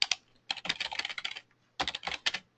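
Typing on a computer keyboard: quick bursts of close, crisp key clicks in two runs separated by a short pause, with no talking.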